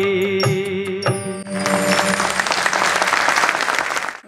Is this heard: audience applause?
yes